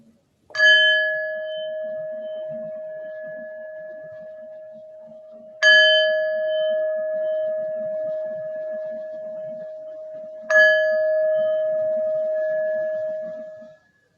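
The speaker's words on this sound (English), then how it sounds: "why don't we begin with 3 sounds of the bell" Three widely spaced strikes of a meditation bell at a gathering, each a clear struck tone that rings on and slowly decays before the next, with a soft low rumble of room sound underneath.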